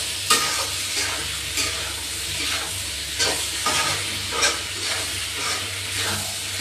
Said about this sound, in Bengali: ওখানে আমরা দিয়ে দিব আলু দিয়ে দিব।